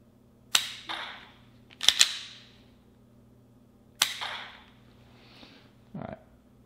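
Dry-fire clicks from a pistol on a Mantis laser training system, a few sharp, close snaps spaced irregularly, some in quick pairs, over a faint steady hum.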